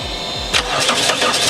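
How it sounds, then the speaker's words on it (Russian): Car engine starting after sitting outdoors for two weeks in freezing weather: starter cranking in a few low rhythmic strokes, then the engine catches and settles into a steady, loud close-up run. "Так, запуск прошел."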